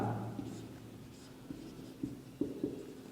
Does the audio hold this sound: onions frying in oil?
no